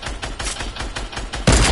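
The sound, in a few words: gunfire shooting at a player in video game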